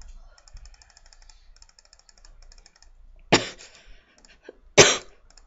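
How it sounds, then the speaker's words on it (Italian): A character in the Nintendo game Zelda: Phantom Hourglass gives two sharp, separate coughs after soft, chiming text blips in a quiet scene. "Che cazzo di tosse?"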